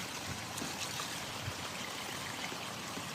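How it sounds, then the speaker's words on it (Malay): Mixed liquid poured into an ant nest hole at the base of a tree, a steady close trickling pour heard alone without a break for a few seconds. "Okey, saya tuangkan."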